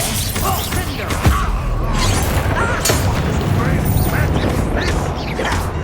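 A Confringo fire spell explodes during a Hogwarts Legacy battle, a loud booming burst amid continuous rumbling combat noise, with mechanical clanks and a voice briefly heard over the din.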